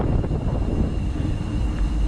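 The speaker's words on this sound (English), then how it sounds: "I don't know if you can pick it up, but it is quite windy" Low, blustery wind rumbles against the microphone in a steady roar on the Taff Trail in Wales during a September bikepacking ride, with no voices.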